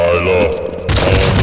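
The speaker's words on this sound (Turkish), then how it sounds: "Bomba atıyorum." A grenade detonates in a Counter-Strike zombie escape match, a loud booming blast that rolls over other game noise and a voice.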